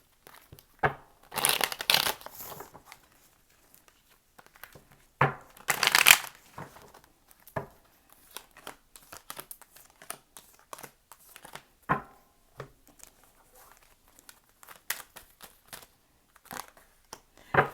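Cards being shuffled close by in short riffling bursts and soft flicks, repeating irregularly with quiet gaps between.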